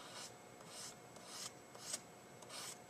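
A BG3 chisel-tip marker is dragged across paper in a series of soft, repeated rasping strokes, faint and close, with no talking.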